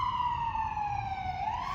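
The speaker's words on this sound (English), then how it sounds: "And do you hear the sirens?" An emergency siren outside wails steadily, its pitch sliding slowly down and then back up, fairly close and clear above a low background rumble.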